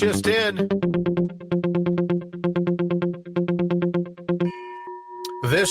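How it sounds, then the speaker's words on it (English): A breaking-news gong effect plays on a talk show: a rapid run of bright, evenly spaced chiming tones over a low hum, ending in a sustained ringing tone before a voice cuts in. "Because it's the breaking news gong."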